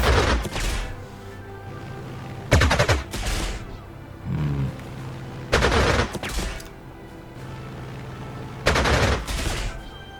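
Aircraft strafing in the World War II strategy game Panzer Corps 2: four loud, close bursts of rapid gunfire spaced a few seconds apart, with quieter rumbling between them.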